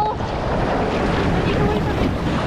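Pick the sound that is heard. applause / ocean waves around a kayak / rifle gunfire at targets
ocean waves around a kayak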